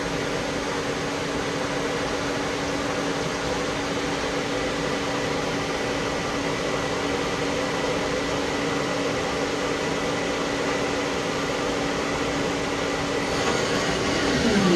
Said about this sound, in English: Subspindle sounds great also.